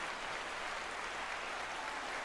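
Applause sound bite effect, a steady wash of clapping held at an even, fairly faint level throughout, with no breaks or voices.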